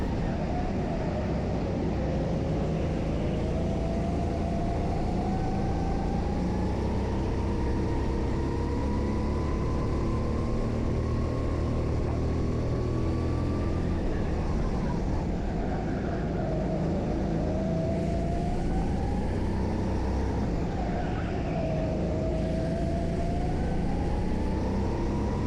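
A racing kart at speed during a karting race in Kortrijk, a loud, dense onboard engine drone that rises and falls in pitch with throttle changes, running continuously with no pauses and no talking.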